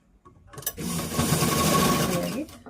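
Sewing machine stitching the hem of a plain blouse, a steady, close mechanical whir running for about two seconds after a brief start-up, with no voices over it.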